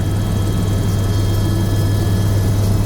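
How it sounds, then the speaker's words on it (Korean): Loud, steady rotor and engine drone of a Bell 407 helicopter in flight on a tour over Niagara Falls, heard from inside the cabin as a constant throbbing hum with no voices. "이 헬기는 세계에서 가장 조용한 벨 407 헬리콥터입니다."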